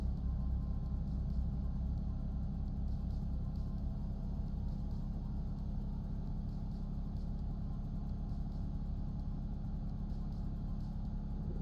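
A heavy truck engine in Euro Truck Simulator 2 drones as a steady, loud low rumble throughout, sounding strained under load, with no speech over it.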